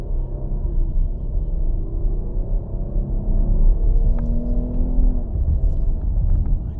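A 2019 Jeep Cherokee 4x4 V6 engine rumbles and rises in pitch as the SUV accelerates, heard from inside, low and steady with a gear change partway through.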